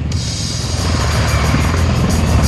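A V-22 Osprey tiltrotor aircraft flies at the Chicago Air and Water Show, its rotors producing a loud, steady, throbbing roar that holds at close range without a break.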